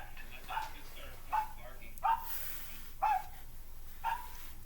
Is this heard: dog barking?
yes